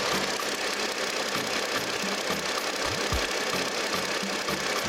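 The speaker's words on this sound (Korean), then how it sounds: "제가 엔진 소리 굉장히 좋다고 말씀을 드렸는데요 한번 직접 들어보시죠" A flagship sedan's engine idling steadily, a smooth even hum with a faint low rumble and no voices.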